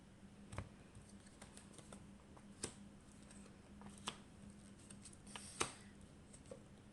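Tarot cards being shuffled and laid down for a three-card reading, a quiet run of soft taps and light snaps spaced irregularly, close and faint in a still room.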